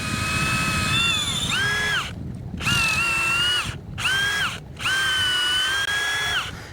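A power drill bores tap holes into a maple tree in four loud, close bursts of whining motor, separated by brief silent pauses as the trigger is released.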